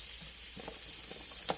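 Sweet potatoes fry in a pan, giving a short burst of steady sizzling with a few soft clicks and a brief louder crackle near the end.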